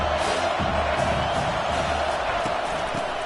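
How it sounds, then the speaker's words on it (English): A stadium crowd roars steadily during a video game football match as the defense lines up on third down, a dense, loud wash of cheering with no pauses. "Decibels rising as the crowd gets behind this defense on third down."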